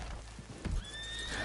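Horse whinny and hoof clip-clop from Red Dead Redemption 2, with a short snort or stamp at mid-clip followed by a rising neigh, heard alone at moderate loudness.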